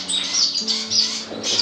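Small finches in an indoor bird room, silverbills, zebra finches and society finches, give rapid high chirps and tweets, several birds calling close together in quick overlapping bursts.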